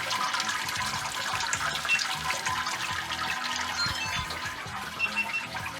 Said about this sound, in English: once that's drained and the sparge water's ready, we'll start sparging